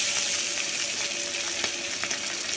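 A hilsa fish tail frying in hot oil in a wok gives a loud, dense, continuous sizzle with faint crackles, steady from start to end with no voices.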